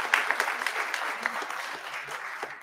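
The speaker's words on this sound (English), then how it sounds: "Let's give the Lord another hand clap of praise for all that has been done." A congregation at a founder's day and awards program claps in praise, steady scattered applause from many hands in a moderately distant room, fairly quiet and continuous.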